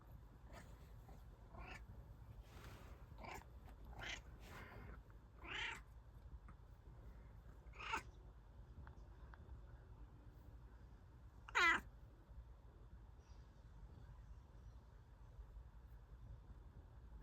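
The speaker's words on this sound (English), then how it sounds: "Cat, stop being loud." A cat meows repeatedly indoors, about seven separate drawn-out calls spaced a second or two apart, with one sharper, stronger cry near the end over a quiet background hum.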